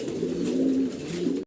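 A pair of spot shallow pigeons coo nearby, a low, throaty rolling murmur that swells and pulses continuously before cutting off abruptly at the end, with no talking.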